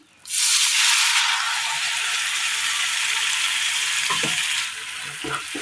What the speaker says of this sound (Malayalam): എണ്ണയിൽ ആ പൊടികളൊക്കെ ഒന്ന് മൂത്ത് വന്നു കഴിയുമ്പോൾ ഇതിലേക്ക് നമുക്ക് ഈ അരച്ചു കൊണ്ടുവന്ന തക്കാളി കൂടി ചേർത്ത് കൊടുക്കാം